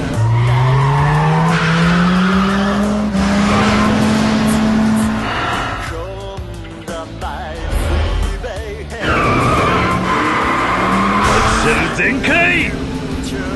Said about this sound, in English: let me go into the corner where I can pull off the racing heat action